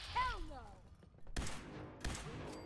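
Gunfire in the video game Fallout 4 cracks out in two loud bursts with reverberant tails, following a short warbling electronic sound, with no talking.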